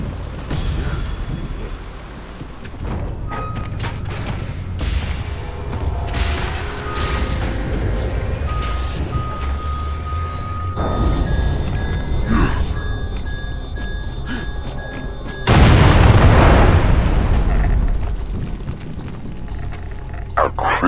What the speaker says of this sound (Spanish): ¿Quieres decir que la vas a volar en mil pedazos?